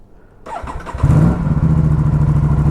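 An Aprilia RS 457 motorcycle, already warm, starts up from a quiet background and settles into a loud, close, steady idle with a throbbing rhythmic exhaust pulse.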